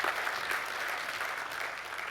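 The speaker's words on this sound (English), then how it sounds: "Give yourselves a hand clap, man." An audience at a motivational talk claps in a short, continuous burst that stays fairly even and moderately loud from start to finish.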